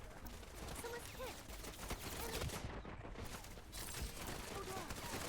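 Sustained gunfire from the video game Wild Assault, dense bursts of shots running throughout at steady, moderate loudness with a short dip partway, voices talking faintly beneath the shooting.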